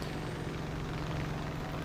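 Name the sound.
plane engine in War Thunder Mobile video game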